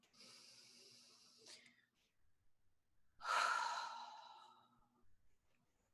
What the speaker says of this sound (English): Deep breath again.